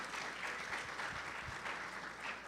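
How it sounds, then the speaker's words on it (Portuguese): A church congregation applauding during a family worship service: dense, even clapping from a large crowd, moderately distant, filling the short stretch with no speech. "Vamos dar uma salva de palmas aqui ao nosso colaborador."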